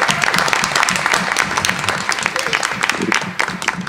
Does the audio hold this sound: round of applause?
yes